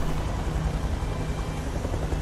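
Dense, continuous rotor roar of a helicopter in the video game Beyond: Two Souls, close and loud with a low rhythmic chop, alone without speech.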